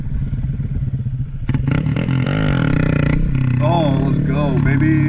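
Motorcycle engine revving on throttle, a low uneven idle under speech that surges into a loud, rising rev with wavering pitch sweeps, sustained close-up for several seconds.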